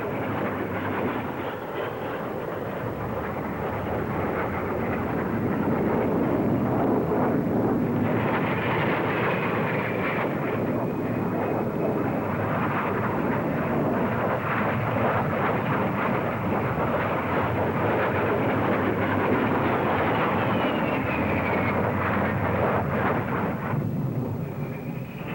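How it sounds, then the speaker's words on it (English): A Jet Provost trainer jet, built for the RAF, flies past at the Farnborough air show. Its engine gives a loud, continuous roar with a faint rising whine, swelling and holding steady for about twenty-five seconds. "The Jet Provost, also in production for the RAF."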